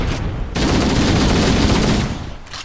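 A grenade blast in the Halo video game, a sudden loud roaring burst that fills about a second and a half with dense crackling noise before cutting off, with no talking over it.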